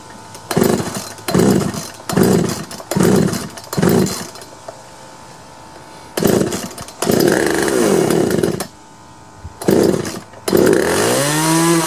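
A Poulan chainsaw that had trouble starting fires up repeatedly in short loud bursts, revving and dropping out, then runs longer with rising and falling engine pitch, close by.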